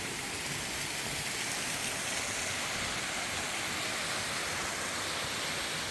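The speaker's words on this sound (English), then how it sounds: "Waterfalls, clean water." Waterfall flowing in wild nature far from cities, a steady, dense broadband rush of falling water that stays constant and fairly loud throughout, with no talking.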